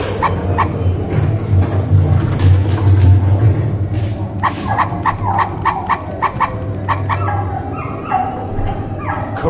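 Barking and yipping dog sounds of the cartoon character Courage the Cowardly Dog on a theme park dark ride, loud repeated yelps and whimpers over a rumbling ride background.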